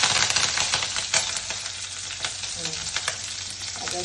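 Mustard seeds, black pepper and cumin fry in hot oil for pongal, giving a busy, close sizzle with bursts of crackling pops that ease off toward the end, and no talking.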